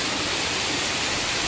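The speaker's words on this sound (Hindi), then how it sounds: "आज तो भाई सुबह ही 4 बजे से बारिश ही बारिश हो रही है" Steady morning rain falls in a dense, even hiss with no breaks, loud and close, with no voices over it.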